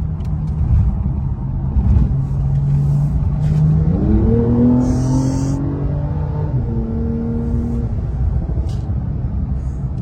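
A Porsche 911 Turbo S accelerates hard from inside the cabin, its engine note climbing steadily through rising revs with a gear shift midway, loud and continuous with a deep rumble beneath.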